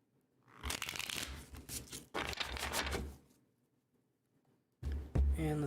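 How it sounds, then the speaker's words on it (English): Tarot cards are shuffled in two long riffling bursts, then a brief pause and a final short shuffle, close and crisp in a quiet room. "One more shuffle for these ones."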